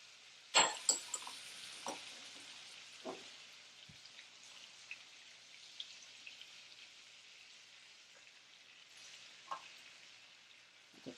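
Minced garlic frying in a pan with pork chops: faint, steady sizzling with a crackle and occasional soft clinks as it is moved around, quiet and close.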